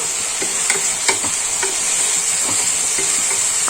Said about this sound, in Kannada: ಐ ಫ್ಲೇಮಲ್ಲೇ ಟೊಮೊಟೊ ಸಾಫ್ಟ್ ಆಗೋವರೆಗೂ ಮಿಕ್ಸ್ ಮಾಡ್ಕೊಳ್ಳಿ